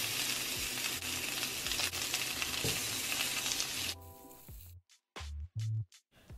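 Short ribs sear and sizzle in a hot pot with a steady, loud frying hiss for about four seconds, then the sound drops to a few separate bursts of sizzling and scraping as the meat is stirred and turned.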